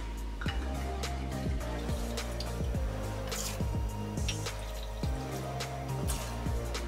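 Rum poured for a Malibu cocktail trickles in a steady liquid stream with gurgling glugs, set against a low repeating musical backing, close and continuous.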